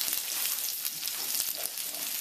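Potatoes sizzle and crackle steadily in a pan, a dense, continuous frying hiss with small pops throughout, close and fairly loud, with no talking over it.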